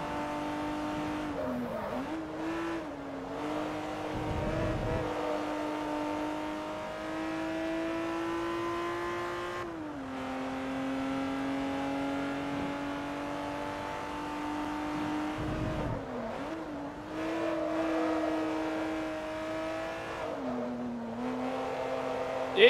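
A car engine races in Forza Motorsport 3 during a Class C Euro Tour event. It drones steadily at high revs, and the pitch drops and climbs again at gear shifts, with no talk over it.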